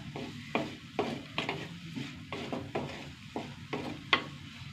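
Ivy gourd and prawns being stirred in a frying pan, with repeated rhythmic scraping strokes over a steady close sizzle and no talking.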